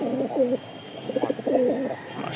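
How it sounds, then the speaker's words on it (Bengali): Two pairs of pigeons kept for sale coo in repeated, close, throaty phrases with brief pauses between them, and no voices are heard. "2 জোড়া কবুতর আছে"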